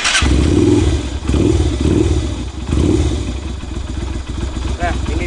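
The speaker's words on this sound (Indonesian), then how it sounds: "ini dia suara dari motor Kaisa Ruby 250 cc yang udah diganti" Kaisar Ruby 250cc custom Road King-style motorcycle fitted with a Harley-Davidson exhaust, idling loud and close with a deep, steady rumble and a few throttle blips, alone without talk.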